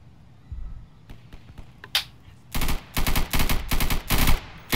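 Gunfire in the video game Insurgency: a few scattered single shots, then rapid loud bursts of automatic fire in quick succession.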